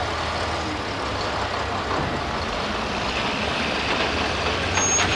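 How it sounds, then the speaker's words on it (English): A tow truck drags a roadrailer trailer toward the railway tracks and onto rail bogies, giving a low, steady engine rumble with faint mechanical clatter and a brief air-brake hiss near the end. "This little tow truck number came along, fastened onto the trailer and moved it to the railway tracks"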